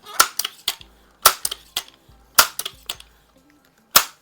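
A Crosman 2100 classic air rifle, pumped five times, fires in a run of sharp close cracks and snappy clicks. The sounds come in irregular clusters, with faint mechanical handling noise between them and no talk.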